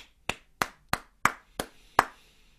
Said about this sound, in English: I am going to do a rhythm of clapping